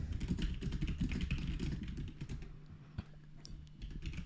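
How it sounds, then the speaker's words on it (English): Computer keyboard typing during a Marvel Strike Force session, a steady patter of close, quick key clicks that thins out toward the end over a low background hum. "and I'm typing because I'm getting a lot of"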